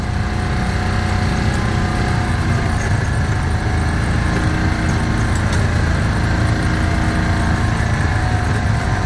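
A 1994 Club Car Carryall utility vehicle drives around a house, its small engine giving a loud, continuous buzzing drone without a break.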